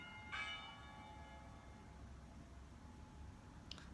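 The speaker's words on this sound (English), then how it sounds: "There's the bell." A single bell strike rings out faint and distant, its tone lingering and fading over roughly a second against a steady background hiss, with a tiny metallic tap near the end.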